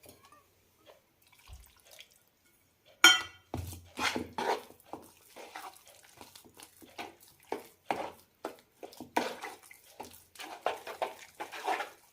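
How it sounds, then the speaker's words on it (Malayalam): Water is poured and stirred into ragi unniappam batter in a kitchen, giving soft intermittent sloshing and wet scraping bursts after a quiet start. "ഇനി വെള്ളം ചേർക്കാം"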